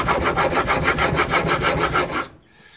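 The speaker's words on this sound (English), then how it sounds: "let's crack on with this sharpening and get this nice sharp angle on here" A chisel sharpened on a sharpening stone, rubbed back and forth in a fast, even rasping rhythm of about a dozen close, loud strokes before stopping abruptly.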